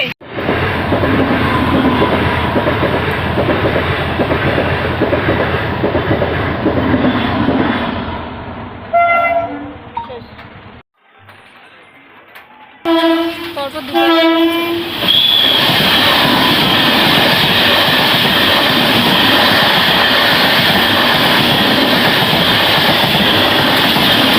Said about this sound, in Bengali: তোমার চোখে ট্রেন আসতে আসতে চলে